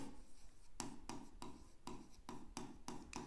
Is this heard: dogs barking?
no